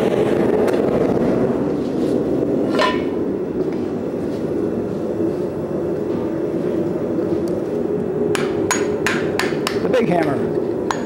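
Hammers ring on hot metal during a blacksmith forging demonstration at the Rocky Mountain Smiths Conference, with a rapid burst of sharp metallic strikes near the end over a steady background of forge and shop noise.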